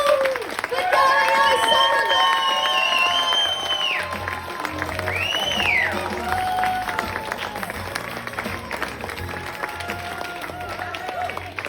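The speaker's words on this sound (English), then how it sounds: "get our clapping hands going, our feet stamping." An audience at a Fringe comedy show claps and stamps its feet in a continuous rumble, with a whistle and a voice speaking over the noise.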